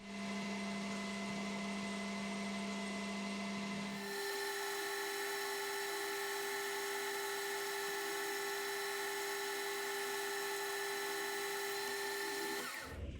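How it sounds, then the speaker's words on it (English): Scotch-Brite pad rubs against a leadscrew spinning on a Sheridan lathe, giving a continuous high whining hum. Partway through, the tone shifts as the motor note steps to a new pitch, then it runs steady until the lathe winds down near the end. "run a bit of Scotch-Brite over that"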